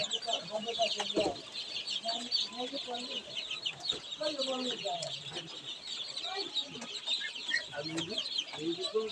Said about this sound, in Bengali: ফার্মি মুরগির বাচ্চা, এই ধরনের বাচ্চা যদি লাগে, বড় বাচ্চা আমাদের সাথে যোগাযোগ করুন।